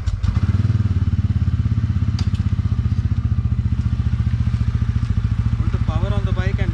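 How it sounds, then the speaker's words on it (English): Motorcycle engine idling close and loud with an even, rapid pulsing beat while the drive chain is being lubricated; a voice talks briefly near the end. "I'm going to power on the bike and lube it."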